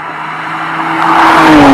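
A Nissan Skyline R33 GT-R engine revving above 5,000 RPM, its loud tone climbing steadily in pitch and volume as the revs build.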